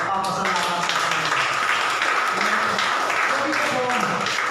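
A church congregation claps in thanksgiving to God, a rough, steady wash of hand claps mixed with voices and murmuring.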